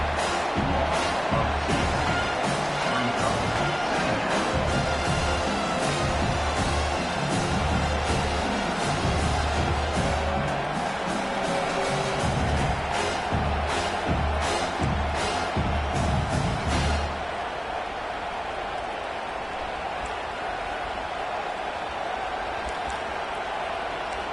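A stadium crowd at a football game roars loudly, then the sound drops sharply to a quieter, softer murmur.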